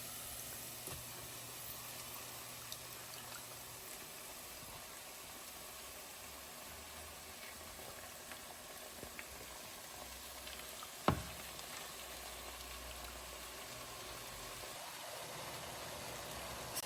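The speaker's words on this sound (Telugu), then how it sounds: "సో మనం క్యాబేజ్ వేసేసుకుంటాం." Cabbage going into a pan of frying potatoes for a cabbage, potato and tomato curry, a low steady sizzle at moderate distance with one sharp clatter partway through.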